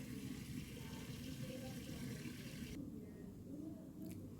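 Cooking oil poured into a container while making Pakistani pakora, a steady liquid trickle that runs continuously at close range before thinning out near the end.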